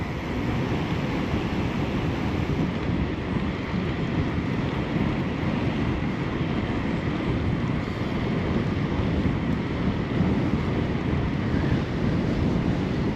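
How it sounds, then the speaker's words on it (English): Headwind roaring across the microphone on a paved bike ride, a loud, continuous low buffeting rumble that never lets up. "Got a headwind to boot."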